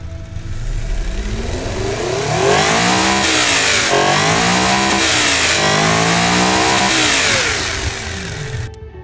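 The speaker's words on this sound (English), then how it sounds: "Listen to the engine." A powerful V12 car engine in a video game revs hard, its pitch sweeping up and down in repeated surges, loud and close, with no talking.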